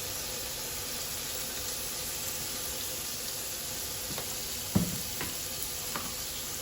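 Pot roast meat sizzling on a grill while being seasoned, a steady close hiss of frying throughout, with a few light clicks and knocks near the end.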